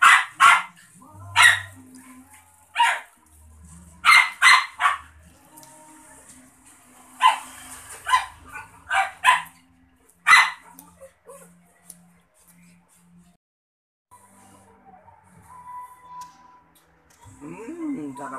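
A dog barks in sharp, scattered bursts, some in quick pairs, with quiet gaps and occasional soft speech or whines between them.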